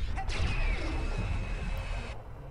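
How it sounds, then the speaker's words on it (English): Objects are smashed in the video game Psychonauts, a sharp crash followed by a sustained, swishy noisy burst that cuts off abruptly after about two seconds, fairly loud and with no talk over it. "Just smashing all the things."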